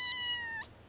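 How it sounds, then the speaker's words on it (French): A new black-and-white female cat lets out one close, clear meow that slides downward and breaks off abruptly, with quiet background and no speech. "Et voici notre nouveau chat."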